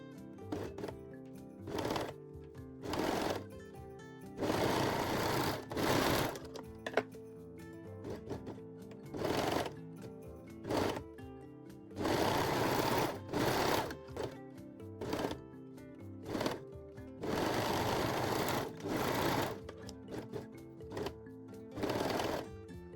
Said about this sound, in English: sew them closed using serger